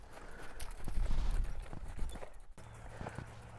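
A horse being lunged on a line trots around, its hooves clip-clopping in a quick steady rhythm close by, with a brief pause before lighter hoof falls resume.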